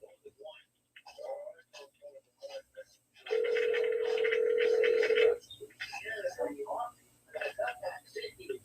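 A telephone ringing out on a call line with crackling and line noise, a steady tone burst lasting about two seconds, heard amid people talking over it before and after.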